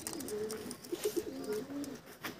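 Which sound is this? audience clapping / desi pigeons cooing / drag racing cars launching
desi pigeons cooing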